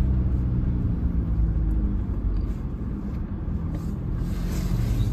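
Car driving along a road in Sweden, a steady low rumble of engine and tyre noise from inside, constant and fairly loud throughout with no speech.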